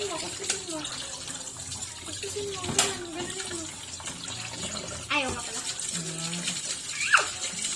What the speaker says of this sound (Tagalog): Talsik na tubig!